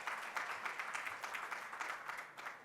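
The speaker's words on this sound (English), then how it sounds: "Ladies and gentlemen, give him a big round of applause." Applause from a conference audience at the Tech Sparks event, a faint, distant patter of many hands clapping at an even rhythm for a couple of seconds.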